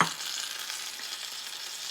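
Tomatoes hit a hot pan of beef for a Moroccan tajine, a brief initial thump followed by a bright, steady sizzle with light stirring, no speech.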